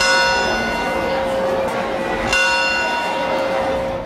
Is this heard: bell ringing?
yes